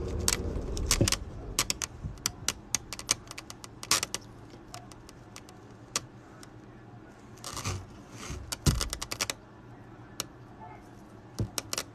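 Metal keychains and jump rings with cowboy-hat coins jangle and clink in rapid, irregular bursts as they are squeezed together, close and fairly quiet.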